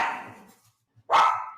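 Dogs barking at home, one bark trailing off at the start and another loud, close bark after a short silence.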